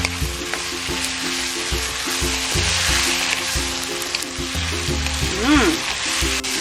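Vegetables stir-frying with soy and oyster sauce hiss steadily in a hot pan, with a spatula scraping and tossing in quick repeated strokes throughout.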